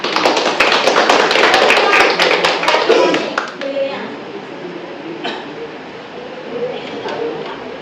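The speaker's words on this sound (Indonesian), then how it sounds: "Beri tepuk tangan buat Visual Squad." A classroom group claps together in a burst of brisk applause that tapers off, leaving scattered claps and soft voices in the room.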